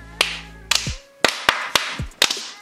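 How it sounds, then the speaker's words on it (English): A few people clap for Jesus in a small room, sharp separate claps in an uneven, sparse rhythm, close and crisp, with no talk over them. "Clap for Jesus!"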